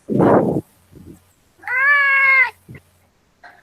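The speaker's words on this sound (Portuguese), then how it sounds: "meu gatinho tá vendo também a tua aula" A pet cat meows once in a long, drawn-out, clear call near a quiet room, framed by brief rustles and soft knocks before and after.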